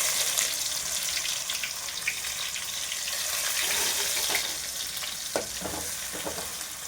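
Onion sizzles steadily in hot oil with cloves, cinnamon and bay leaf, a loud continuous frying hiss with a few soft stirring clicks and no talking.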